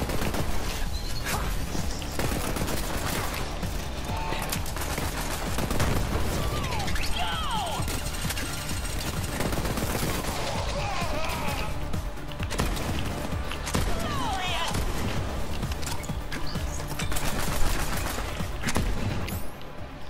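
Dense game gunfire from Borderlands 3 as an enemy reflects bullets back, with continuous rattling shots, crashes and booms layered throughout, loud and busy, with occasional voice underneath.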